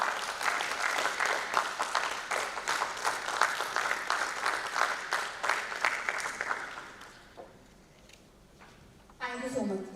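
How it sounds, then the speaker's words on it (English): Audience at a national accounting conference gives sustained applause for about seven seconds, dense and steady, then fades to a quieter room before a voice speaks near the end. "Let's have a big round of claps for them"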